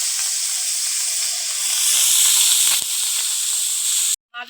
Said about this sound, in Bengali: মাছগুলো কেটে ধুয়ে নিয়ে চলে এসেছি, এবার ভেজে নেব।